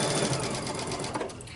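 Home sewing machine fitted with a stretch needle runs steadily through fabric, a continuous close whirring motor with rapid rhythmic needle clatter, loud and alone.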